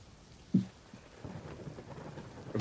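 Rain falling with a rumble of thunder, a soft steady wash of rainfall broken by a sudden low thunder burst early on and another swell at the end.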